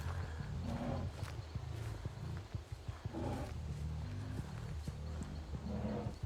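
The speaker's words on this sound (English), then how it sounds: "You can hear both the footsteps and the breathing of the survivors here." Survivor footsteps and breathing in the horror game Dead by Daylight, heard as a rhythmic run of soft thudding steps with breathy bursts, moderately loud and without talk.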